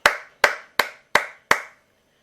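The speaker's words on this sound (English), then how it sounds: "Did you hear me clapping?" Five sharp hand claps at an even, unhurried pace, each a crisp close smack that decays quickly into silence, with nothing else heard around them.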